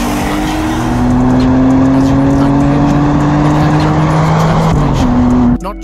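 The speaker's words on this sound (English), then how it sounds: "allowing the charismatic engine note to fill the space" Alfa Romeo 156 GTA engine note, a loud sustained rising drone from inside the car under acceleration, with a brief gear change near the end before the tone resumes.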